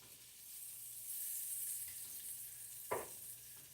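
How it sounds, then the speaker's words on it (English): Butter melting in a still-hot pan for scrambled eggs: a soft, steady sizzle with hiss, faint and close, with one brief clink near the end. "I'm going to add my butter now. The pan is still hot, so the butter is going to melt."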